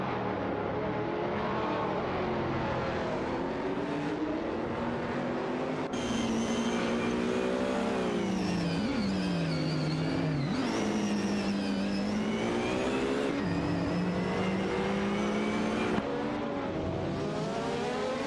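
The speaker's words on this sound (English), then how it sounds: "Bot Merchican Live is piloting the Jaguar XE-R DTAGT, while Bot Axton Hits is not backing down in the BMW Z4M Coupe GT3" Race car engines, including a Jaguar XE-R and a BMW Z4M Coupe GT3, roar continuously in a racing video game, with loud sustained revving and rising and falling pitch as cars shift and pass, with no talking.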